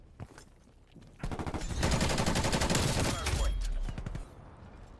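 Sustained rapid automatic gunfire from a Call of Duty Cold War multiplayer match, a dense continuous burst of shots lasting several seconds with a few sporadic shots before and after.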